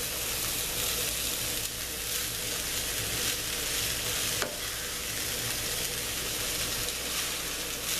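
Corned beef hash with potatoes fries in a non-stick pan over a moderate flame, giving a dense, continuous sizzle that stays even and close throughout, with no talking.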